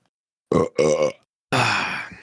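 Three loud, close burps in quick succession, two short ones followed by a longer, drawn-out belch, with silence between them.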